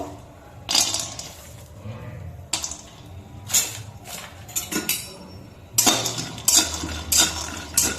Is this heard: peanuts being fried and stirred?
yes